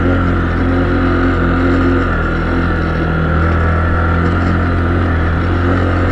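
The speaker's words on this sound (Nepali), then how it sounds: "मेरो बाइक अलि खतरा छ के त्यही भएर अलि तान्न मान्दैन बिस्तारै जानुपर्छ" A motorcycle engine labours steadily uphill on a mountain road in Nepal, giving a continuous loud, low drone with no breaks, heard close up from the rider's position.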